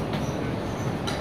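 A subway train at Seomyeon station in Busan gives a brief, steady, loud rumble with a hissing wash of wheel and track noise, heard close with no talking.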